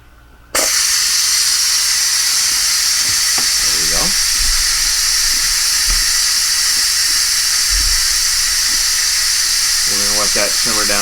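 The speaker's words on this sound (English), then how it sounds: "Time to release our pressure steam." Steam hisses steadily and loudly as pressure is released from a pressure canner of home-canned tomatoes, a continuous broadband rush that starts abruptly and runs throughout, with a few brief bits of speech underneath.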